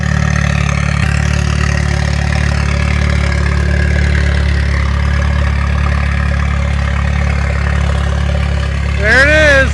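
A turbocharged Mazda F2T engine with retarded cam timing runs at a loud, steady idle close by, its deep drone holding even before a brief rev rise at the end; a voice speaks over it.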